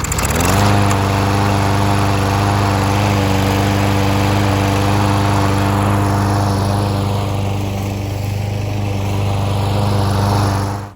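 A small lawn mower engine, just fitted with a repaired carburetor, fires up and runs loudly and close with a steady chugging drone for several seconds before cutting off.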